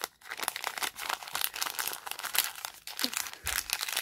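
Plastic bags crinkle and rustle up close as small items are bagged one by one for shipping, a steady busy crackle with brief pauses and no talking.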